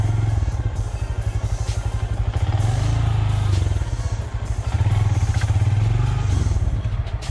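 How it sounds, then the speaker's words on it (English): A Honda Grom motorcycle ridden along a route near a bridge, its small engine chugging loud and steady with a rhythmic throb that rises and falls in pitch, with some rattling clatter, no talk. "this Grom is the best bike Cameron could have bought ever."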